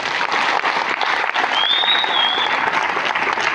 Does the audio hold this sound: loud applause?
yes